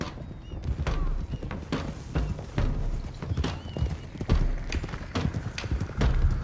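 Horses gallop with a steady, continuous clip-clop of hooves across the ground in Red Dead Redemption 2, a riding group moving together at pace, loud and sustained throughout.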